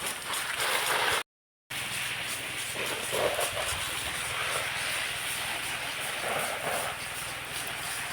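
A garden water sprinkler with one nozzle blocked sprays the rest of its water hard, giving a steady, fairly faint hiss with a brief dropout early on.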